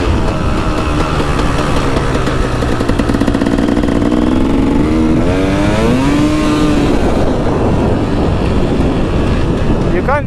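A dirt bike's engine drones loud and close on a dirt flat track as the rear tire spins, the revs rising and wavering while the rider talks over it.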